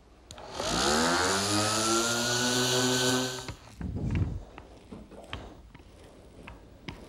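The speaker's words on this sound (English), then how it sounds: "Sanding the edges of the oak smooth to the particle board assures a good bond for the" A power tool sands oak edges flush with particle board for a desk top: a loud, steady motor whine that winds down after about three seconds, followed by scattered clicks and knocks.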